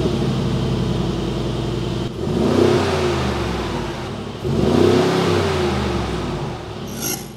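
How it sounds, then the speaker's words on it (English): The 4-liter twin-turbo V8 of a Mercedes G63 AMG 4x4² revs twice in sharp blips over a rumbling idle, each surge climbing and falling back, heard up close with no talking. "the G63 4x4 has kept the famous 4-liter V8 twin-turbo engine that produces the same sound as the old G-classes."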